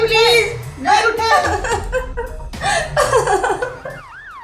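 An ambulance siren sounds in an emergency scene from a Hindi-Urdu drama serial, as a brief rising and falling wail near the end that follows loud, urgent voices talking over one another.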